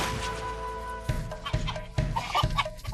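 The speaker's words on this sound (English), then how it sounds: "the chicken, thinking it might be the day of its fate, panics and tries to escape in a frenzy" A panicked chicken in a coop clucking in frantic, repeated bursts, with sharp thumps and scuffling as it flaps about, loud and close.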